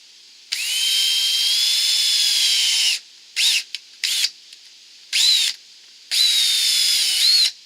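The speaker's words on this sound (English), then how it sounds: "drill out the holes with the 1/8 inch drill bit, and then put the screws in" Power drill boring 1/8 inch pilot holes through storm door hinges during a Larson Savannah storm door installation: one long whining run, then several short bursts and a final sustained spin, close up.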